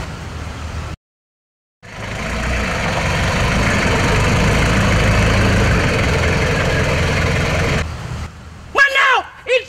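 A Honda motorbike engine running close by, a loud steady rumbling drone that cuts out briefly near the start, then resumes before people talk at the end.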